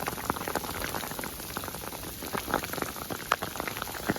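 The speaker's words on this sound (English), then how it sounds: "It's hailing." Hail falls at a spring campsite in Yellowstone National Park, a steady dense patter of small sharp ticks and taps on the ground and nearby surfaces. A few louder individual hits stand out.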